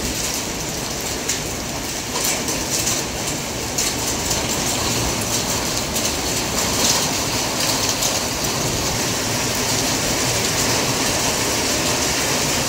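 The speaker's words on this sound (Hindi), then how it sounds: "बाहर जो ओले भी पड़ रहे हैं, ओले पड़ रहे हैं ना भाई?" Heavy rain mixed with hail falls outside during a storm, a dense, steady hissing patter with scattered sharper hits that continues without pause and without voices.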